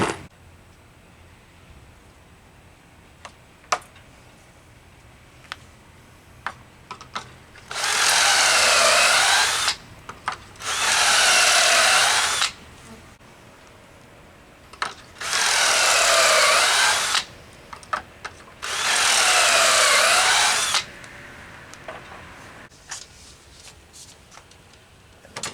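A power drill bores holes for added supports in an aquaponics build, running in four loud close bursts of a few seconds each, separated by quiet pauses with small handling clicks.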